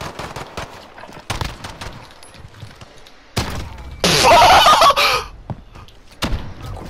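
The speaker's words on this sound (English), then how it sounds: "I'm just charging with a shotgun." Loud shotgun blasts from Call of Duty Modern Warfare fire in sharp separate bangs, with a dense burst of rapid gunfire and clatter in the middle, among other game noises.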